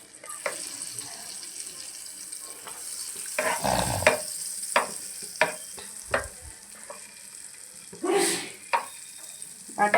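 Chopped capsicum, onion, tomato, carrot and cabbage lightly frying in butter for a bread sandwich, with soft sizzling under repeated stirring scrapes and clinks of a spoon against the pan, close up.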